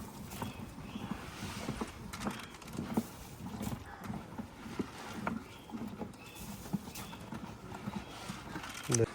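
A horse with a foal in a farm setting, with irregular hoof clops and stamping close by, mixed with shuffling and feeding noise while someone talks.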